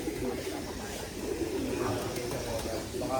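Many pigeons coo softly in a low, murmuring chorus at a loft of champion birds, a steady background of cooing and rustling.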